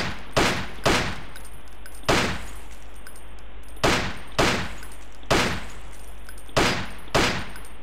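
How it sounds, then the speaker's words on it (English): Sharp pistol shots ring out at short-range targets on a Ghost Recon training range, eleven loud cracks fired mostly in quick pairs with brief pauses between, each decaying fast. "Switch to the pistol and practice hitting the short-range targets."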